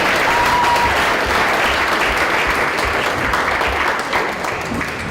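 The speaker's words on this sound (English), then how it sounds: "So give yourselves a big round of applause." A nightclub audience gives a big round of applause, dense continuous clapping up close that tapers slightly toward the end.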